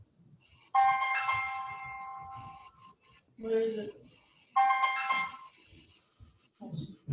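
A mobile phone rings indoors in a quiet home, its bright electronic tone sounding in two bursts of a few seconds each, separated by a pause filled with a short spoken question, with soft murmuring voices at low level around it.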